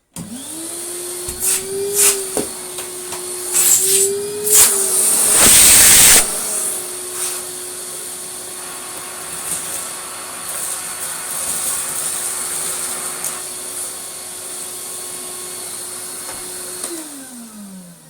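An Electrolux Slimline Z156 vacuum cleaner, refurbished and under a suction test, runs with a loud steady motor whine, broken early by a burst of hissing airflow as the nozzle is blocked, then settling and winding down at the end.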